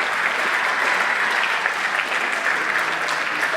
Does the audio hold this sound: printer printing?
no